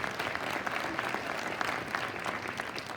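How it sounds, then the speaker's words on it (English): A crowd applauding steadily for a few seconds at a fair queen contest, a dense wash of clapping heard from within the room. "give her a round of applause"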